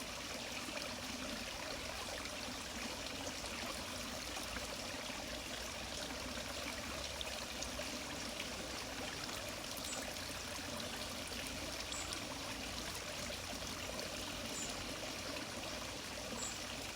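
Water trickling down a series of small waterfall steps in a garden cascade in Streatham, London, a steady soft babble and splash throughout, faint and continuous with no voices.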